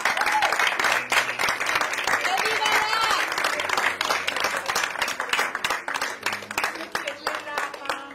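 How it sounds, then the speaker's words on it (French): Audience at an arts event applauding two honored guests, a loud sustained round of clapping that thins into scattered claps toward the end, with some voices mixed in. "je voudrais qu'on applaudisse très très"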